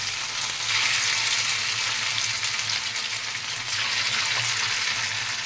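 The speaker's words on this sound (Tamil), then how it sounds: "அதுக்கு வேண்டி தான் ஆயிலில் போட்டு ஃப்ரை பண்ண போகிறோம்" Cut pieces of an evening snack frying in hot oil, a steady dense sizzle and crackle that runs unbroken from start to finish at close range.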